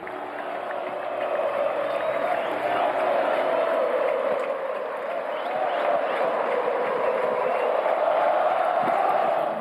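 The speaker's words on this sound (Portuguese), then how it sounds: "E quando eles começaram a entrar, veio imediatamente o justo grito da torcida." Football crowd roaring as the team arrives at Arena Condá, a steady, far-off wall of shouting and cheering that swells and holds for the whole stretch.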